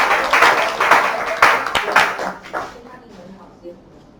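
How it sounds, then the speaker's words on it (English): A handful of people at a camp session clap in short uneven bursts, fairly close and loud, fading out after a couple of seconds into near quiet with faint voices. "I can give them a bit of applause."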